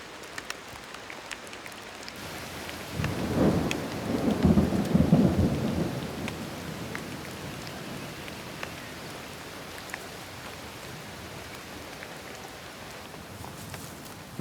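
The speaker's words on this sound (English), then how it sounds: "The worst rains in living memory." Heavy rain pours steadily in a thunderstorm, with a deep rolling thunder rumble swelling loud in the first seconds before easing back to a constant downpour.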